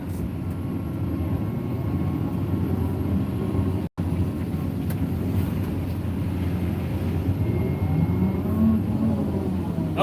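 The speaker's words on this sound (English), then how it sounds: "It will literally pull the excavator sideways till I get the first" A Caterpillar 336 excavator with a standard 2 3/4 yard bucket works in water, its engine a steady low drone with shifting load and a brief break partway through.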